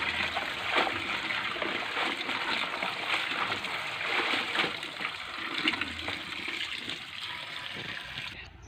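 Harvested leaves soaked and washed by hand in water, giving a continuous close sloshing and splashing with small swirls and gushes as they are stirred, with no clear talk.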